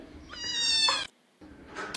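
A cat meows twice, close and loud: one long drawn-out meow, a short silence, then a shorter second call.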